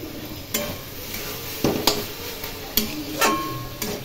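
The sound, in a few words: stirring bottle gourd prawn curry with ghee in a pan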